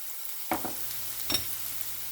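Spices fry in a pan with turmeric and tamarind powder, giving a steady low sizzle broken by two short scraping stirs, close and without talking.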